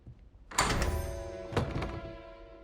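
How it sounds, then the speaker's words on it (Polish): A picture door in the video game Hogwarts Legacy opens with a heavy thunk followed by a second resonant clunk and a ringing, fading mechanical rumble, close and loud with no talk. "No i teraz powinny nam się otworzyć te drzwi."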